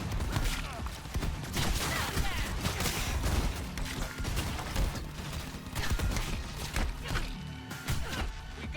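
Heavy gunfire in the Cyberpunk 2077 video game, a dense, loud barrage of shots and impacts that continues for several seconds, with voices faintly under the noise.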